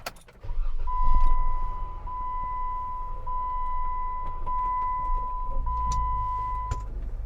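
A Jeep's engine starts and runs at a steady idle with a whining tone as the vehicle is moved, close and moderately loud, with a few clicks.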